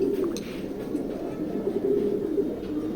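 A pigeon held among racing pigeons coos in low, repeated throaty pulses, close and steady over soft background noise.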